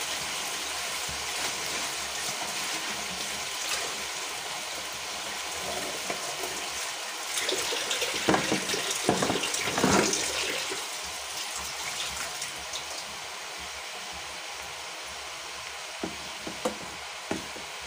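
Water pours into a pot of wilted vegetables for a clear Indonesian vegetable soup, a steady rushing splash that swells in the middle and then settles into a quieter trickle, with no talking.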